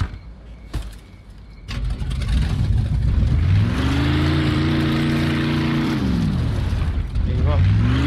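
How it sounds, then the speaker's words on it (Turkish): A Greaser car engine in Mafia 2 roars steadily as it drives, pitch climbing and settling between gear changes, loud and close, preceded by a short burst of game sounds. "Greaser arabası aldık"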